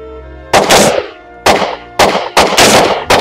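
Rifle gunshots at a shooting lesson: four loud, sharp reports close by, each followed by a short ringing decay, spaced unevenly about half a second to a second apart, with no talk during the shots.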